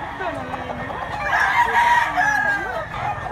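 A young Kelso Roundhead gamecock stag crows loudly and close, its long call rising and falling, with another crow-like call following.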